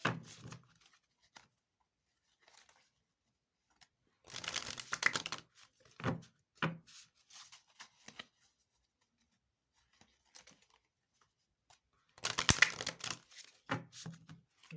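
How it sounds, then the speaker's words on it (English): Cards shuffled in two short riffling bursts separated by long quiet stretches, with scattered handling clicks and rustles close by. "Just give it a quick shuffle."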